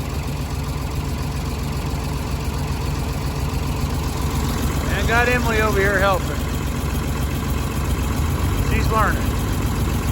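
A farm tractor idles with a steady low rumble while loading hay, close and continuous throughout, as someone talks over it and a higher mechanical whine briefly rises midway.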